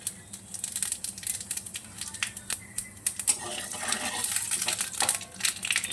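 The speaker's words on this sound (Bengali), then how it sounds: "এবার দিয়ে দেবো কটা সাদা জিরে।" White cumin seeds dropped into a pan that already holds torn bay leaves, a quick scatter of small crackling ticks and light clinks, fairly close, with kitchen handling noise and no talk.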